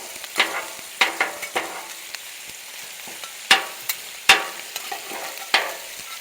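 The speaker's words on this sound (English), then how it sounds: "We're going to get these vegetables stirred up real good" Shrimp and vegetables sizzle on a flat griddle while a spatula stirs them, sharp metallic scrapes and taps landing in an irregular rhythm over a soft, steady frying hiss.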